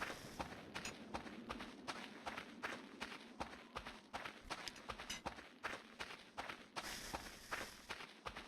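Footsteps walk steadily through Voices of the Void, a regular run of moderately loud steps over a constant background hum, with no one talking.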